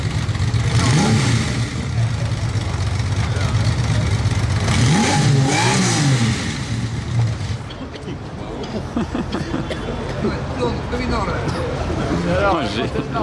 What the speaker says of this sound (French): Oh les pots d'échappement.